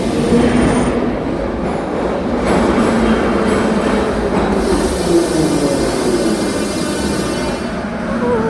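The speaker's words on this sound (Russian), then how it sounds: "Метро." A metro train in Armenia runs continuously, with a loud rumbling roar, rhythmic wheel clatter and faint squeals and tonal whines rising and falling over several seconds, close and enveloping.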